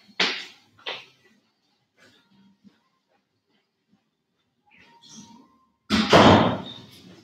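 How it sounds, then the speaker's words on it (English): Two quick knocks come early, then near silence with faint movement, and finally a loud, close thud as a door is pushed shut. "I'm just going to close the doors."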